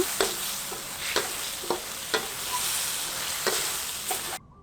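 Minced pork stir-fried with oyster sauce and fish sauce sizzles steadily in a pan, broken by sharp spatula scrapes and taps every second or so, close by, before cutting off abruptly.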